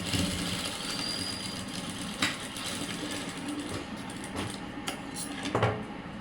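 Sewing machine stitching a hook and eye onto fabric, a fast mechanical whirring chatter with a few sharp clicks, close and moderately loud, no talk.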